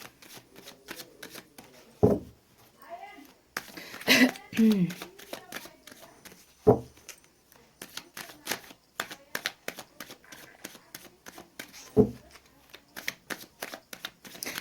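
Tarot cards are shuffled by hand in quick rustling flurries, close and fairly quiet, broken by a few sharper knocks and soft throat sounds.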